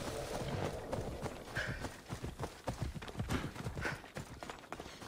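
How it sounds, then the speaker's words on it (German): Rhythmic hoofbeats of a galloping horse in Assassin's Creed Odyssey, quick repeated thuds at moderate volume, with some scattered background noise. "Pferdchen macht Galopp."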